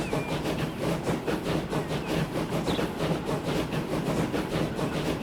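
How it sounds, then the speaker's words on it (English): A train in the Transport Fever 2 game rolls past on a UK line with a steady, loud rhythmic clatter of wheels over rail joints. The rumble is continuous and no voices are heard. "Here comes another train"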